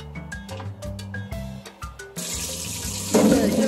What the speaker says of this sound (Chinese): 接着就是清洗奶精马铃薯